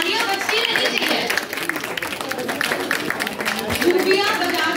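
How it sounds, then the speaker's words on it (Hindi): Audience applause at an inclusive poetry competition during a school certificate ceremony, a steady wash of many hands clapping throughout, with a voice talking over it. "तालियां बजती रहनी चाहिए।"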